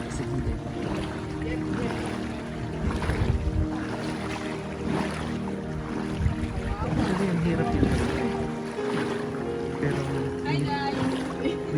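A boat motor hums steadily through floodwater in Masantol, Pampanga, with wind buffeting the microphone and water sloshing around, voices faint in the background.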